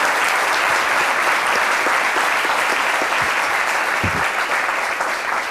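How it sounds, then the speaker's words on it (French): A French midday TV show's studio audience breaks into sustained, dense applause, steady and full throughout with a few louder claps near the end. "Sous vos applaudissements."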